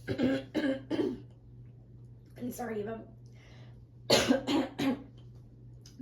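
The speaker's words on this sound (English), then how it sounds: "I'm clearing my throat too much" A person clears their throat and coughs in short, close bursts, with brief speech in between and a steady low hum underneath.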